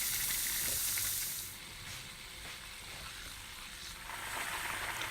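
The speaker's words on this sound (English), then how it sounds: "I'm going to start off by putting the butter in the pan. And give that a good mix and let the butter melt." Butter melting in a pan for a butterscotch tart, a soft continuous hiss and sizzle that dips slightly midway and swells again, close and steady with no voices.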